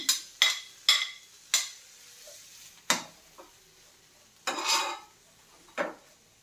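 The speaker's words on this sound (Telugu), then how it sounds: "సో ఫస్ట్ ఆ స్పినాచ్ వేసుకుంటాను." Chopped spinach tipped into melted butter in a frying pan, heard as a run of sharp close scrapes and clatters from stirring, with a faint sizzle between the bursts and no talking.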